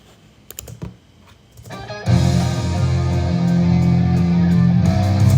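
A few quiet plucked notes, then heavy distorted electric guitars through an Overloud TH-U amp simulator crash in loud and keep ringing in a thick, sustained wall of sound.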